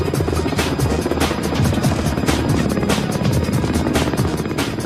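Kamov Ka-52 Alligator two-seat military attack helicopter, a steady loud rotor drone with rhythmic blade thumping and turbine whine, continuous throughout and fairly close.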